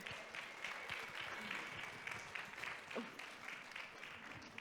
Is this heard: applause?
yes